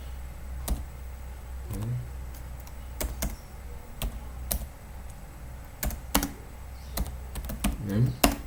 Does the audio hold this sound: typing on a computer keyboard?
yes